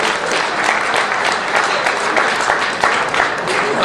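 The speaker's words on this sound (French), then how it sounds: "on peut déjà s'applaudir" Loud, dense applause from a crowd at a political speech rally, continuous and energetic for the full few seconds, with some faint voices mixed in.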